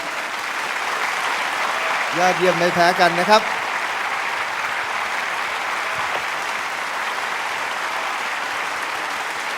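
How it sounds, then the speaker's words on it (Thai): Audience clapping for a contestant on The Voice Thailand, a dense steady wash of applause throughout, with a voice speaking briefly over it near the start. "ขอเสียงปรบมือให้กับคุณบูมด้วยครับ"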